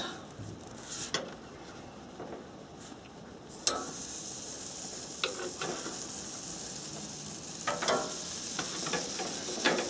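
Pork chops sizzle on a barbecue grill in a steady hiss that grows louder partway through, broken by scattered clicks and scrapes of tools and grate.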